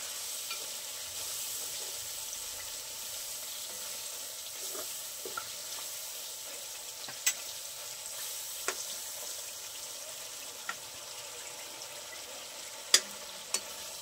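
Sauce with soy sauce sizzles and is stirred in a pan for homemade pasta, a steady close frying hiss broken by occasional sharp clicks and scrapes of the spoon.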